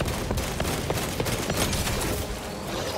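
Gunfire in Warhammer 40k Space Marine 2, a dense, loud barrage of rapid shots and impacts running continuously through the whole stretch of chaotic combat.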